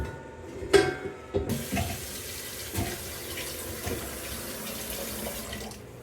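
Tap water runs into a pot to cover cut carrots while Jamaican food is being cooked, a steady close splashing stream with a few clanks at the start and no talking.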